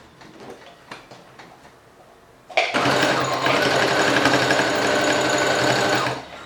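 A sewing machine stitching elastic onto a towel: quiet handling and faint taps at first, then the motor starts abruptly and runs in a loud, steady whirring chatter for several seconds before stopping.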